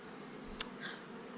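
Faint, low buzzing of honey bees in a hive hums quietly and steadily, with a brief soft click partway through.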